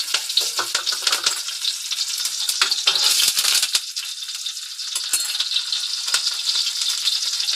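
Green chillies hit hot oil in a pan while jeera rice is cooked, giving a steady, loud, close sizzle and crackle that runs unbroken throughout, with a few light clinks mixed in.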